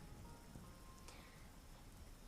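Steady rain falls softly on surfaces, a faint continuous patter heard at a distance with no voices.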